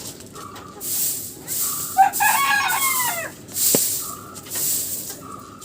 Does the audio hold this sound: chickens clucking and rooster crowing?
yes